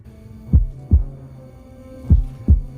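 Heartbeat effect from a horror movie: four deep, booming low thuds in two double-beat pairs, lub-dub, about 1.5 seconds apart, over a steady low hum, with no one talking.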